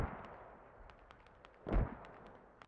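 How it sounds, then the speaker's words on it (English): Incoming mortar fire in the military shooter SquadOps, a muffled distant boom in the middle and a sharp nearer blast at the end, over scattered faint gunfire cracks. "Damn, mortars coming in and everything."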